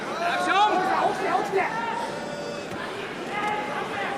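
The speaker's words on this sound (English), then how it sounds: "listen to the crowd reacting to that" Arena crowd at a Pride 7 mixed martial arts event, a steady roar of chatter and shouting with a few louder swells, continuous and fairly close throughout.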